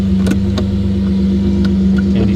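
A Lamborghini Murcielago engine runs loud and close with a steady droning tone, a few short sharp clicks or knocks over it, and a slight rise in revs near the end.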